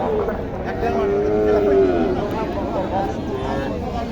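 Cattle moo amid the murmur of a crowded outdoor livestock market in Moidhol, Naogaon, with people talking throughout and one drawn-out low call standing out.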